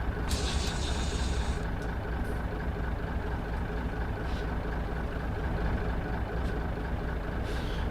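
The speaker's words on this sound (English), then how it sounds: "Put the brake on." A Fiat FNM 210 truck in Euro Truck Simulator 2 idles with a steady low engine rumble, and brief hissing air-brake releases come through near the start and in short bursts later on.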